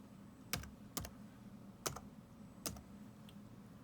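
Four separate clicks of keys typed on a computer keyboard while entering a load command at a command prompt for a Dragon 12 microcontroller board, spaced unevenly, close and crisp over a low hum.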